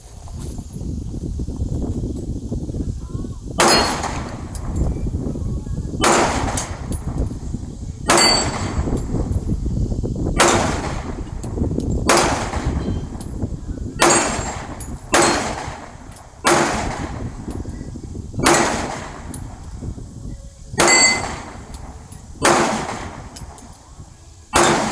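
Pistol shots from an M&P Shield Plus at an outdoor range, each sharp crack followed by a ringing clang of steel targets, a dozen spaced hits coming in an uneven, steady rhythm.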